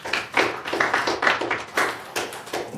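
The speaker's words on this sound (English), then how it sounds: "Applause really isn't necessary." A small group claps at a community meeting, the applause coming in uneven bursts of taps that rise and fall, fairly close and without talk.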